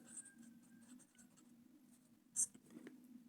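Pen writing on paper while a math word problem about distance, speed and time is worked out, a faint scratchy stroke under a steady low hum, with one brief louder tap near the end.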